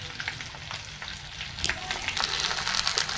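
Ivy gourd and spices fry in a pan over a low gas flame, giving a soft, steady sizzle and crackle up close without any voices.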